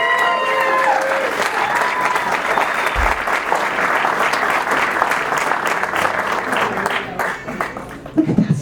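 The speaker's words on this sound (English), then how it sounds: "what does that mean to you when you hear that round of applause? It was not subtle, it was pretty loud." Loud crowd applause for bike racer Will Harden at a Team Winston Salem launch event, a dense, sustained wash of clapping that holds steady for several seconds with a few stray voices mixed in.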